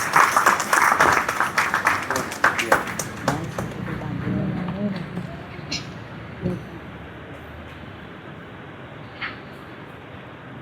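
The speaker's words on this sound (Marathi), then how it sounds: "एकदा जोरदार टाळ्या व्हायला पाहिजे" Applause for honored guests at a Swami Samarth devotional gathering in Pune, a loud burst of crowd clapping that thins and fades out over several seconds, with a few scattered voices.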